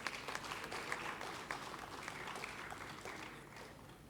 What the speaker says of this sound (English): to the stage with a warm round of applause